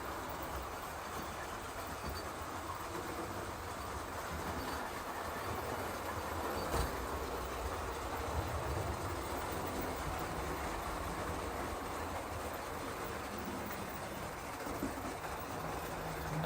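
A model railway layout with a Sir Nigel Gresley locomotive runs steadily, a faint continuous whir and rolling rattle of small wheels on track with no talking.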